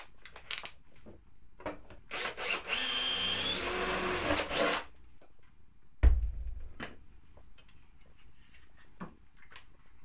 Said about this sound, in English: I'll drill a hole and then just cut through with the jigsaw